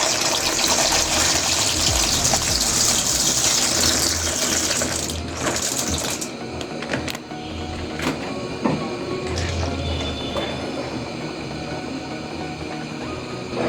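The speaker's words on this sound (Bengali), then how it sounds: "পানি অলরেডি ফুটে গেছে নুডলসগুলো সিদ্ধর জন্য" Water boils in a pot on the stove for cooking noodles, a steady loud bubbling hiss that fades partway through into quieter simmering with a few clinks.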